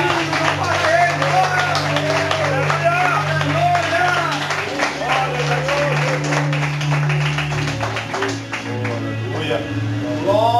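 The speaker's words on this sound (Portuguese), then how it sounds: "Palmas para o Senhor Jesus!" A church congregation applauds for Jesus, steady dense clapping and crowd noise throughout, mixed with voices and a low sustained musical drone underneath.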